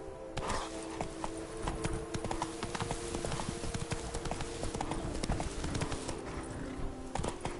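Roach the horse gallops in Witcher 3: Blood and Wine, with quick, continuous clip-clop hoofbeats close up in a steady driving rhythm over faint game ambience.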